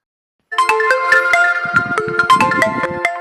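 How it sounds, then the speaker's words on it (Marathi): A mobile phone rings loudly with an incoming call. Its bright electronic ringtone melody begins after a short silence and carries on without pause, close and clear, with no voices over it. "बहुतेक मला वाटते महाराजाचाच फोन होय"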